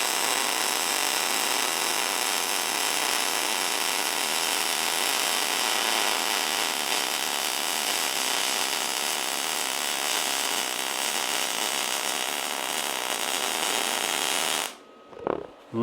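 MIG welding with a Jasic MIG-200 or MIG-270 semi-automatic welder in a straight linear pass: a loud, steady, close crackling buzz of the arc running continuously, then cutting off abruptly near the end.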